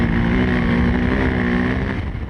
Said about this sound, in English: Lovely to hear the engine.